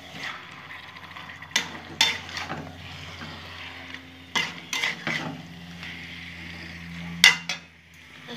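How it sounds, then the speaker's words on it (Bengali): Chicken marinated in gondhoraj lemon juice and pepper is stirred and fried in a pan, with scattered metallic clanks and scrapes of the utensil over a soft background sizzle. "চিকেনটা যে ম্যারিনেট করে রেখেছিলাম গন্ধরাজ লেবুর রস দিয়ে গোলমরিচের গুঁড়ো আর এটা এখন দিয়ে দিলাম, অনেকক্ষণ ধরে কষে নেব।"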